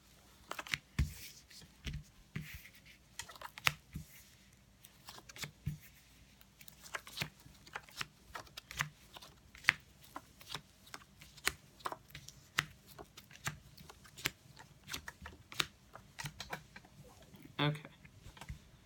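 Playing cards are laid out one by one in a grid on a table, giving many light, close slaps and ticks in a steady irregular series, with occasional faint talk.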